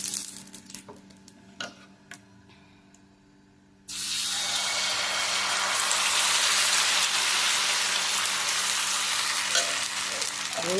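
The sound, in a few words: dosa frying in hot oil on a pan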